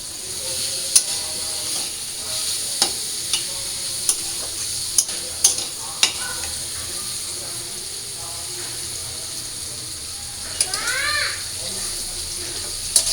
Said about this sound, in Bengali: আর এইদিকে আমার এই যে কাটা আলু ভাজা হয়ে গেছে